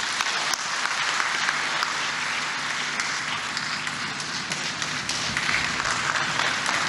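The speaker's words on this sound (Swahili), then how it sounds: "Naomba tupige makofi mengi" A large audience at a business community gathering with the Tanzanian and South African presidents applauds steadily, a thick, even wash of many hands clapping throughout with no break.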